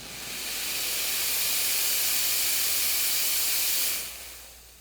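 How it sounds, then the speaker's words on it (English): A Carico ProSeries 360 cleaning machine releases a loud, close, continuous hiss of steam for about four seconds before cutting off abruptly. "Now when I pull the trigger for the steam function, you're going to notice steam"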